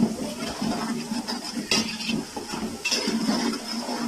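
Chillies and onions frying in a pan for keema aloo, with steady sizzling broken by clinks and scrapes of a spoon stirring against metal, close and continuous.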